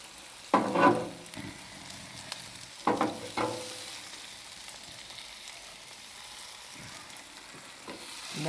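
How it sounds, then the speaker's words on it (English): Grilled tomatoes go onto a hot grill for a flatbread stacker, giving a faint, low sizzle with a few sharper bursts of stirring and scraping spaced a couple of seconds apart. "Tomatoes are going on next. Whatever's left of them. They're nice and cooked, Oh, very cooked. grilled tomatoes."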